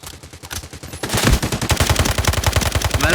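Rapid machine gun bursts from a Delta Force Mobile firefight, a lighter stutter at first, then loud sustained automatic fire with a steady rhythm of close shots through the rest.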